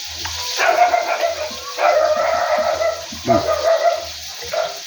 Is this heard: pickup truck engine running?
no